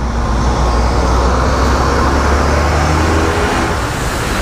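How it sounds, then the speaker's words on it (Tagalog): A large truck passes on a road under construction among rice fields in rural northern Luzon, a loud, steady low rumble of heavy traffic noise that holds close throughout without any talk. "Lalaki ng truck, oh."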